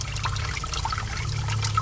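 A sump pump in a French drain pit runs after its float switch trips, sending a steady close gurgle and trickle of water being pumped away with no talking over it.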